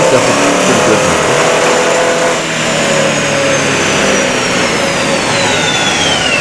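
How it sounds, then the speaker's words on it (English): A hot rod with open pipes and exhaust cutouts revving hard on a dyno at a car event, a loud sustained engine roar held nearly constant and close, with a brief dip partway through. "this guy came along and ran pretty hard, and I think he had open pipes and cutouts"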